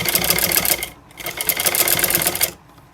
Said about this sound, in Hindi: इस तरह से रखेंगे और इनके ऊपर हम सिलाई लगाएंगे